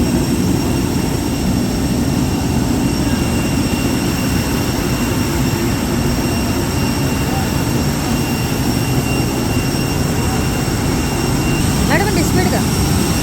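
Jet engine roaring on an airport apron, a loud, steady, unbroken drone that fills the whole stretch, with some voices faintly mixed in.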